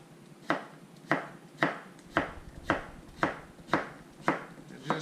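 Knife chopping vegetables on a cutting board for a red cabbage salad, about nine evenly spaced, crisp close chops in a steady rhythm with no talk.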